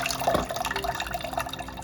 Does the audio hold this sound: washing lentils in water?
yes